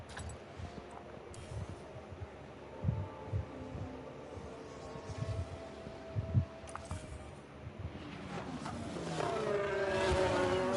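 Racing cars in F1 Manager 2022 run a practice session, engine drone and passing whines layered throughout, with a rising high-pitched engine sweep near the end.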